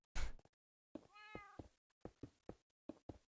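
A cat in the Minecraft video game meows in short synthetic cries amid a few hollow knocks and thunks of block placement, heard close with no talking.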